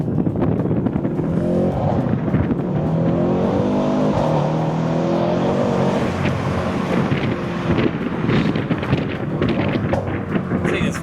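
A 2020 Mercedes C63s roars steadily as it accelerates with its rear sliding, the engine loud and continuous under heavy wind buffeting on the microphone.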